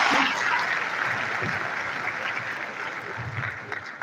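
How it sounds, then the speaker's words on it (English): Sustained audience applause at an academic lecture event in Nigeria, a dense steady wash of many hands clapping that fades slightly over four seconds, with faint voices mixed in. "Please, another round of applause for our Chief Medical Director and the Chairman of the occasion."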